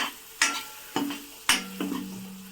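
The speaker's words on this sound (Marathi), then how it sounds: "थोडंसं इथे तिखट टाकून घेऊयात लगेच आणि मिक्स करून घेऊयात" A spoon stirs chili powder into dal khichdi in a pan, giving four or five sharp metallic scrapes and clinks against the pan, close by, over a faint sizzle with no talking.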